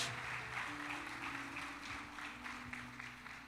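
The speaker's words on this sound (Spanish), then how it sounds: "denle esas palmas de gozo al Espíritu Santo" A church congregation applauds in a steady, diffuse wash of many hands, heard faint and somewhat distant without clear speech over it.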